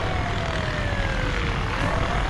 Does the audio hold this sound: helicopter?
yes